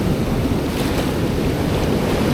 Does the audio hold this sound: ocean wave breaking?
yes